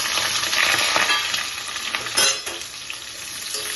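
Ridge gourd pieces dropped into hot oil with panch phoron, a bright crackling sizzle that swells as they hit the oil, close and continuous with no talking.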